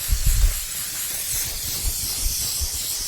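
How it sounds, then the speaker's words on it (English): A steady, close hiss of glaze spray from an aerosol can onto a cake, continuous for a few seconds, with light handling bumps at the start. "spray it with this glaze spray"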